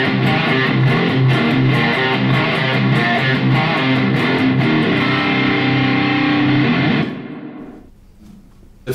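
Heavily distorted metal lead tone from an electric guitar through a Yamaha THR10X amp on its Power 2 channel, tuned low, plays loud sustained riffing for about seven seconds, then stops and leaves a faint decaying ring.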